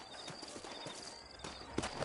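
Horse hooves clip-clop at a walking pace in Red Dead Redemption's frontier town of New Albany, a steady close rhythm of soft thuds over low ambient noise.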